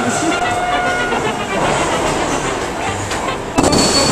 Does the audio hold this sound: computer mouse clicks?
no